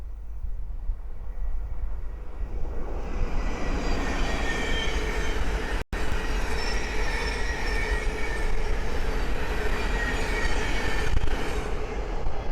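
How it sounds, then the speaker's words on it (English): A train rumbles steadily past close by, with rushing wheel noise, faint squealing and a whining electric drone lasting throughout. "the next train to pass by is a Thameslink 700 from Cambridge to Brighton"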